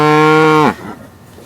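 Cow mooing once, a loud, close, drawn-out low call lasting under a second before cutting off into quiet outdoor background.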